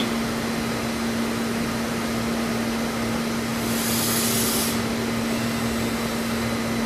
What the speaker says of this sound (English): Here what we have is a contoured workpiece with a contoured grinding wheel.